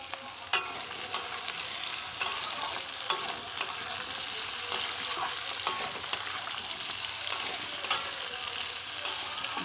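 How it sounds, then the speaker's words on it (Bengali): Potatoes and eggplant stir-fried in hot oil for spinach dal, giving a steady loud sizzle with sharp spatula scrapes and clicks every second or so, with no voices. "আমি আলু কুচনোগুলো ভালো করে তেলে দিয়ে নেড়ে নেব"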